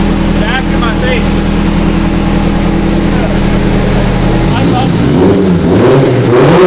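A heavily tuned Subaru STI, built toward 950 whp, runs hard on a dyno with a loud, sustained engine roar that shifts in pitch and texture partway through, while voices are audible under it.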